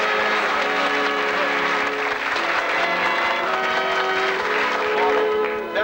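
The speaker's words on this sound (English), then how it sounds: "Give them a nice round of applause" Studio audience applauding on the 1979 game show 3-2-1, a loud, dense, steady wash of clapping that fills the whole stretch with a little crowd noise mixed in.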